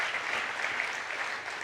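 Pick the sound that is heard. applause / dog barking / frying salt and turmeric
applause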